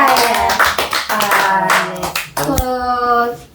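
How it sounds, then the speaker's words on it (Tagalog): Audience clapping during a lively Filipino variety-show segment, a dense burst of applause with harmonic tones from music or voices running underneath throughout. "Palakpak naman kaya."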